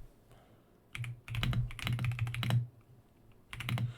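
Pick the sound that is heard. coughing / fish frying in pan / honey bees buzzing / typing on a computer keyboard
typing on a computer keyboard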